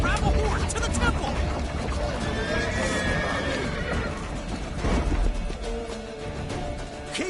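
A horse in The Witcher 3 neighs and whinnies loudly amid hoofbeats, clattering and battle noise, with shouted voices over the commotion.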